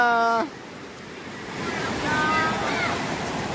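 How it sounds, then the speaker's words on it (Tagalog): Big sea waves wash and crash onto a beach in a steady, roaring surge with wind noise on the microphone, opening with a brief loud tonal burst before the surf rumble rises and swells again. "Grabe po mga kalingap ng alon."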